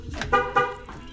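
A car's remote lock and unlock system gives two short, close electronic chirps in quick succession, faint and brief against a quiet background.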